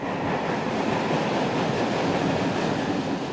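A train rumbles past with a steady, continuous roar and rattle of rolling cars, fairly loud throughout with no voices.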